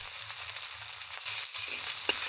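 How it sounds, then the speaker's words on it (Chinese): Shredded pork frying in hot oil in a wok, a steady bright sizzle with soft stirring scrapes and a brief clink near the end, close and continuous with no talk. "开火热锅，进去一点油，先把肉丝炒了"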